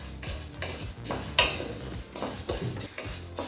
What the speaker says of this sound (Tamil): எண்ணெய் சேர்க்காம தான் பருப்பை வறுக்கிறேன்